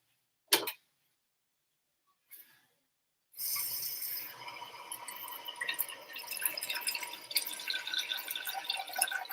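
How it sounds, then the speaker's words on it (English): Kitchen tap runs into a pot being filled with water for rice, after a couple of brief knocks, then a steady splashing, rising gurgle of water filling the vessel close by. "Just getting some water for some rice"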